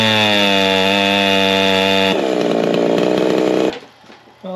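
A ported G372 chainsaw engine revs loud and close, holding a steady high buzzing whine, then shifting to a rougher, lower, struggling tone before dropping off abruptly to near idle.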